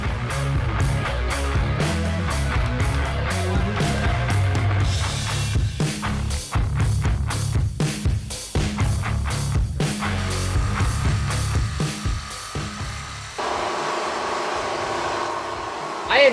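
Porsche 911 with a muffler fitted directly in the header, a loud continuous engine and exhaust drone with rumbling revs and shifting tone, close up throughout.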